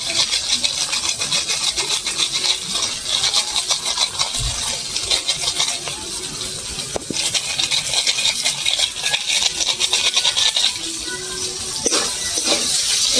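Spice masala with turmeric, green chili and garam masala is stirred and fried in a pan for a fish curry, giving continuous scraping and clattering over a constant sizzle, fairly loud and close.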